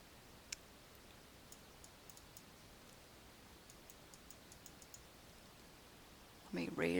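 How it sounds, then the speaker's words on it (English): Faint, sparse computer mouse clicks during Photoshop editing, small isolated ticks scattered over a hushed room tone, followed at the end by a burst of louder sound. "Now, we're just clicking."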